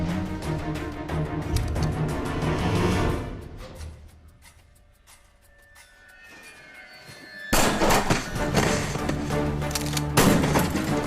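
Gunfire in an action scene from a Somali feature film: dense, sustained bursts blend with a loud musical score, dip to a quieter stretch midway, then surge back loud and continuous.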